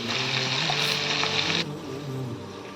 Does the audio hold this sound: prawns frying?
yes